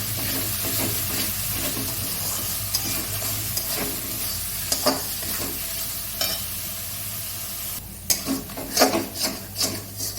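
Tomato pieces sizzle in hot spice masala while being stirred for an aar fish curry: a steady close frying hiss with scraping stirs, swelling into louder bursts of sizzling toward the end.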